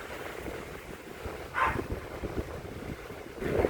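Wind gusting across a beach at Burungan by the seashore, a steady breathy rush buffeting the microphone with a couple of stronger gusts, no voices.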